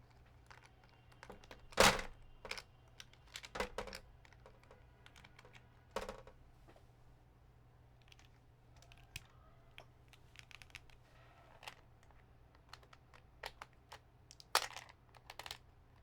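Keycaps being pulled off a mechanical keyboard, heard as scattered plastic clicks and clacks with a few sharper snaps, fairly close, over a low steady hum.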